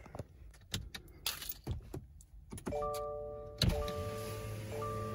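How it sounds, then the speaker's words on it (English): Inside a 2022 Subaru WRX Sport manual, keys jangle and clatter, then the car is switched on and the electric windows hum steadily upward with a whining motor tone over a low engine idle. "Let me roll up the windows first."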